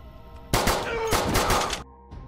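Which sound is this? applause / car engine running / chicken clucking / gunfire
gunfire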